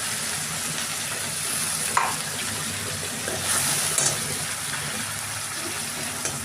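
Ground onion paste frying in oil in a wok makes a steady, close sizzle with faint stirring scrapes and a few sharper pops, no talk.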